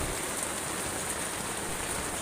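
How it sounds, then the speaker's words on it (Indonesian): Fairly heavy rain falls steadily on a mountain campsite at Pos 3 on the Bambangan trail of Mount Slamet, a constant close hiss with no voices. "selepas mendirikan tenda, hujan pun turun lumayan deras."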